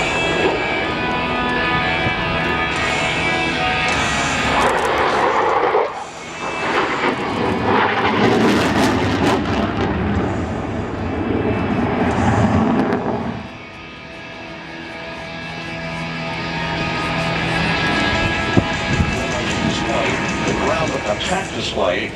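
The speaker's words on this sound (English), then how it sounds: "Now approaching from your right for his last maneuver, a tactical pitch-up." USAF F-16C Fighting Falcon jet at the 2013 Avalon Airshow roaring past during its demonstration, a loud sustained engine rumble swelling and fading, with an announcer talking over it.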